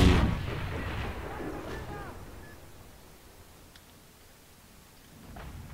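An artillery shell explodes in the tank battle game World of Tanks, one heavy boom at the start that rumbles and fades into quiet, with a faint thud later.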